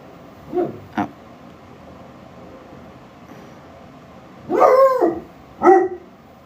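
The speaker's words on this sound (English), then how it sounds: "my dog's going to bark" A dog barks in two short bursts, one quick pair near the start and a louder pair later on, with quiet indoor room tone in between.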